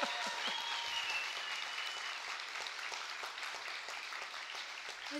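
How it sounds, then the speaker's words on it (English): Audience clapping at a talent-show audition, a steady dense patter of many hands that keeps up evenly for the whole stretch, moderately loud and with no talk over it. "You can clap now."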